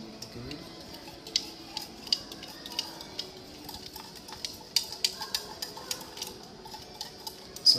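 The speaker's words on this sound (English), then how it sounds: "So we're stirring up our second" A spoon or stirrer clinks rapidly against a glass container while a liquid sample is mixed, with irregular bright ticks over faint background noise.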